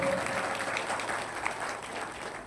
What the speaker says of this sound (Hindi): ये बहुत बड़े वीर हैं, इनके लिए एक ताली बजा दो